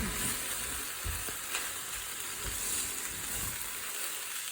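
Spinach fries in a pan with a steady bright sizzle while it is stirred, scraping bumps breaking through now and then, close and continuous with no voices.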